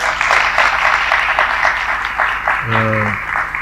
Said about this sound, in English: Please give Mr. Gupta a big round of applause.